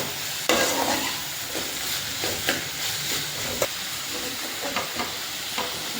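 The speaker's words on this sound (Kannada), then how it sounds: "ಸೊ ಹಾಗೆ ಸ್ವಲ್ಪ ಸಾಲ್ಟನ್ನು ಹಾಕಿ ಈ ಥರ ಫ್ರೈ ಮಾಡಬೇಕು." Beetroot fries in a pan with salt, giving a steady close sizzle broken by regular scraping stirs of a spatula.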